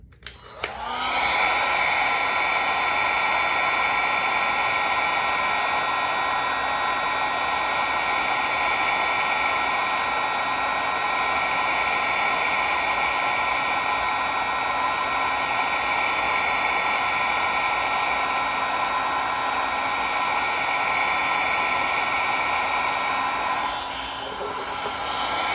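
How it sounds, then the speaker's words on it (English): A heat gun blows hot air over a 3D printed mount for Kobalt 24V tools, giving a steady, loud, close whooshing hiss with a faint whine that runs unbroken for most of the clip before easing near the end. "Remember to keep moving your heat gun."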